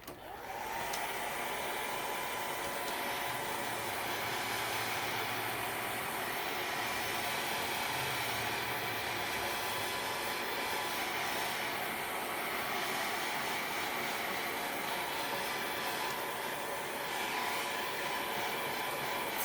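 A hair dryer blows steadily on a handmade goat craft piece, a continuous loud whooshing drone that holds even for the whole stretch without a break.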